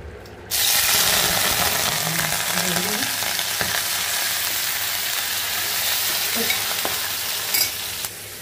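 Dried fish hits a hot pan and bursts into a loud, close sizzle that holds steady, with occasional scraping stirs and small pops over the frying.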